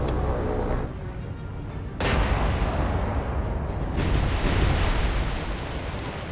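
Naval guns fire in the video game War on the Sea during a USS Indiana versus IJN Ise battle, with heavy booming blasts about every two seconds over a constant roaring rumble of sea and explosion.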